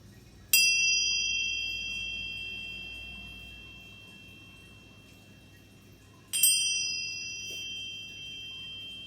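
A meditation chime rings out clearly, struck at about 0.5 s and again near 6.3 s, each strike leaving a long, bright, shimmering tone that slowly decays over a quiet room with low background hum.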